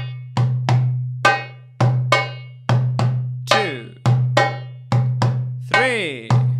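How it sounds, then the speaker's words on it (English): Darbuka playing three bars of the Sa'idi rhythm, then an ornamented fourth bar: sharp, ringing doum and tek strokes in a bouncy pattern, close and solo, with a busier flurry of strokes at the end. "So if I play 3 Sa'idis and then ornament the fourth bar, it'll sound like this."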